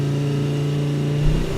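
Skoda Kodiaq vRS SUV (2020) pulling away under launch control, a loud, steady engine drone close by that rises sharply in revs near the end.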